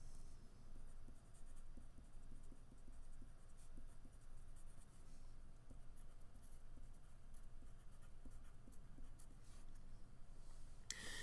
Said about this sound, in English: Go back to my pencil, twist it as I draw it out.